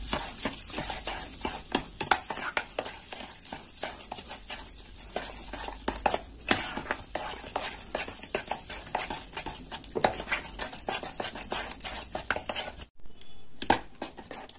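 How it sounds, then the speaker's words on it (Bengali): A spoon stirring banana sherbet with cold water clinks in quick, uneven taps against the vessel, close and fairly loud, with a steady background hiss throughout. "দিয়ে দেবো একটু ঠান্ডা জল। একটু ভালো করে মিশিয়ে নেব।"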